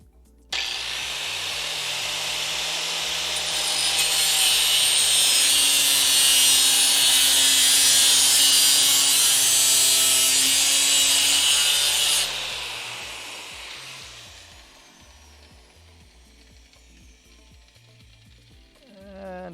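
Hand saw cutting in a garage, with steady rasping back-and-forth strokes that build to a loud, continuous sawing for several seconds and then stop, leaving quiet rattles.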